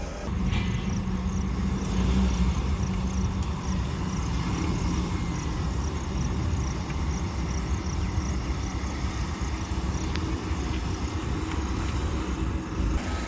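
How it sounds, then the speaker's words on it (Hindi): A Mahindra Thar in two-wheel drive tries to climb out of a slippery surface, its rear wheels spinning under a steady, continuous engine drone with no talk. "पिछले पहिए बहुत स्ट्रगल कर रहे थे इस चिकने सरफेस से बाहर निकलने के लिए"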